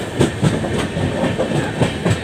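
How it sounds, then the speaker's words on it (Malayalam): A train arriving at Kollam railway station, its wheels beating a steady, loud clickety-clack rhythm over the rail joints, with a constant rumble underneath and no voices. "അങ്ങനെ കൊല്ലം റെയിൽവേ സ്റ്റേഷനിൽ എത്തിച്ചേർന്നിരിക്കുകയാണ്."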